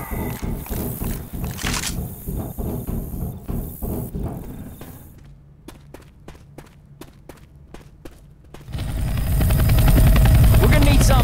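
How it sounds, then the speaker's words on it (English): A helicopter in Left 4 Dead 2 chops loudly with a rapid pulsing rotor beat, fading briefly into sparse sharp clicks before a heavy roaring rumble swells up and holds to the end. "We're gonna need something big to signal that chopper."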